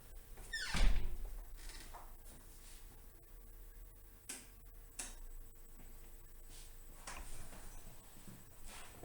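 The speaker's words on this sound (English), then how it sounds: "Hold on, let me shut the door" A door is shut indoors with a single solid thunk near the start, followed by quieter room noise and a few faint knocks and clicks.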